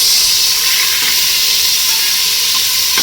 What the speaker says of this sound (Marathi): आता यामध्ये आपण बारीक चिरून घेतलेले टोमॅटो छान तेल सुटत तोपर्यंत परतून घेऊयात।